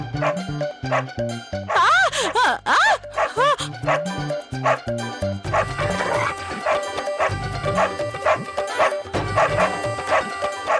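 A dog barks and yips repeatedly over busy, loud music, the barks sharp and close with whimpering tones mixed in.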